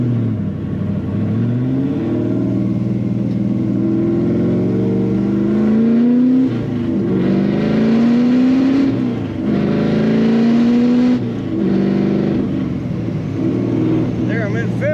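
A restomodded 1955 Chevrolet 210 two-door hardtop's engine drones steadily from inside the cabin, rising in pitch as it accelerates up to fifth gear, with brief dips at each shift.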